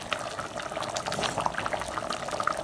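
Egg curry gravy boiling in a pot, a steady close bubbling and popping with many small irregular bursts throughout, no voices.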